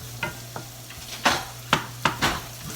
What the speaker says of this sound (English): Break those onions up into all the little tiny pieces as they cook.